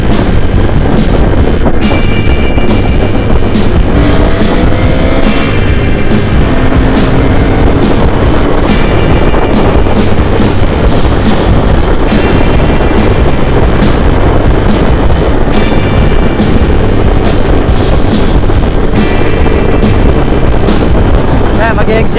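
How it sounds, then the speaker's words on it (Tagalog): Loud, buffeting wind roars past an open helmet while riding a Ducati motorcycle on a highway, a constant blasting rush with engine rumble underneath and a rider talking over it. "nakakabingi yung hangin"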